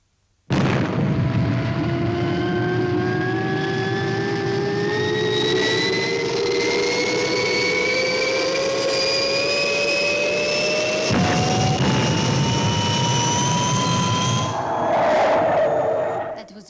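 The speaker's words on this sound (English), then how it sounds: "That was a real boss takeoff, Steve." Fireball XL5 spaceship lifts off in a TV sound effect, a loud roaring jet-like blast with a steadily rising whine that climbs for about fifteen seconds before a final burst, alone without voices.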